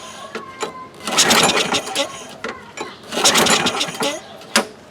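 A flooded 2003 Craftsman 6.25 lawn mower engine cranks in two long, loud, churning bursts separated by a short pause, with voices and small knocks around it, but the engine never catches.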